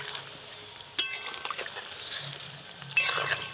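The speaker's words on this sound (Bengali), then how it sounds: "পকোড়াগুলো ভাজছি, দেখো তেলের উপরে সবগুলো ভেসে উঠছে।" Semolina pakoras frying in a pan of hot oil at a home stove, giving a soft steady sizzle with small crackles and a few stirring clinks, faint and close.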